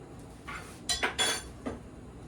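Hot glass canning jars, just used for processing corn, clink together in a few light, bright knocks close by, grouped near the middle of a short, quiet moment with no talking.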